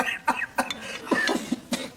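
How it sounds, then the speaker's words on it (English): A woman coughing in a rapid fit, several sharp, close coughs in quick succession with brief throat-clearing sounds between them. "She's having a coughing fit."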